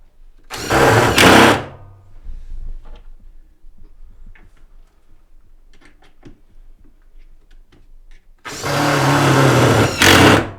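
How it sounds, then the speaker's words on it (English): An electric percussion screwdriver drives screws into loft supports with two loud, close bursts of buzzing motor whir, one near the start and one at the end. Soft clicks and handling noises fill the quiet stretch between them. "it's a whole lot easier with an electric screwdriver, so we've given Lou a little percussion screwdriver."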